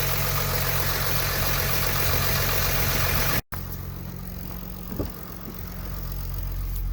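A Jeep WK CRD diesel engine idles with a steady, loud drone and a noisy power steering pump. It cuts briefly, then resumes slightly quieter with a faint knock.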